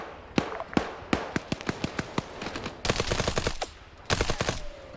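Mossberg shotgun fire in a military shooter video game, sharp booming shots spaced irregularly, then denser overlapping bursts of rapid gunfire near the end, loud and close with no talking.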